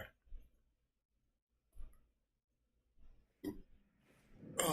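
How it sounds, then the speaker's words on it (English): A single short, low burp sounds close and quiet amid small clicks and breathing in a nearly silent room, followed by a louder rustling noise. "Had to burp."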